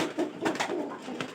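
Two pigeons held in hand give soft, low cooing sounds close by, in short continuous murmurs with no talking.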